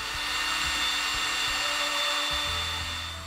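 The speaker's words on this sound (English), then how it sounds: "we found it much easier using a power drill." A power drill twists strands of 18 gauge wire together for a paper mache whale frame, a steady motor whine running through the whole stretch at close range with no talk.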